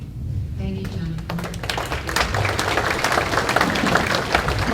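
Audience applause at a mayoral meet-and-greet, a steady wash of clapping from a crowd that builds slightly and stays busy throughout, with talk mixed underneath.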